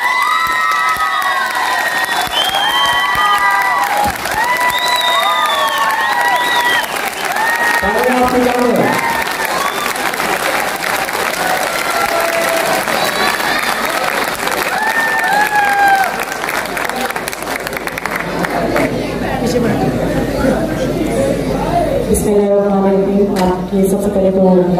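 An audience bursts into loud applause and cheering after a stage drama at the Rawalpindi Arts Council, with dense clapping, excited shouts and whistles running throughout, and a voice joining near the end.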